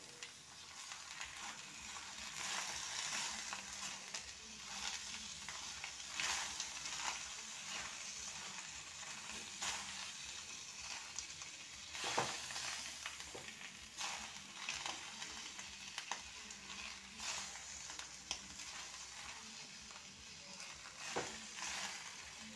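Shrimp being mixed with yogurt in a pan over low heat for a Bengali kolapata chingri dish, a steady soft sizzle with scraping and stirring throughout, close and alone, no talk.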